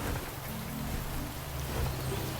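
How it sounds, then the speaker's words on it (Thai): Steady rain falling outdoors beside a house, a dense, even hiss of drops that continues without pause, fairly faint, with no talking. "ฝนก็ตก"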